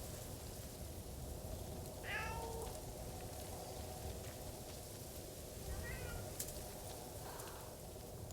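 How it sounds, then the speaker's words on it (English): Cat meows reproduced through a DualSense controller speaker in Ghost of Tsushima, two or three short faint cries over a quiet, steady hiss. "DualSense seems to be simulating a cat pairing, and quite accurately, might I add."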